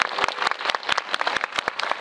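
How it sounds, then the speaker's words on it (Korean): An audience claps at a film talk event for the Korean movie Another Child, a dense, lively round of applause with sharp individual claps standing out, close and continuous. "박수 부탁드립니다."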